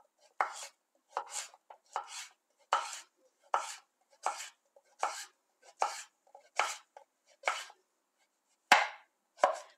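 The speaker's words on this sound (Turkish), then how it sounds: "Kabağımı güzelce yıkadım ve ortadan bölüyorum. Yarım ay şeklinde doğruyorum." A knife chops washed zucchini into half-moon slices on a cutting board, about a dozen crisp, evenly spaced cuts, close and clear with no talking.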